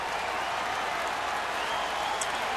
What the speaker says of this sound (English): the crowd reacting to the score being posted here at Miller Park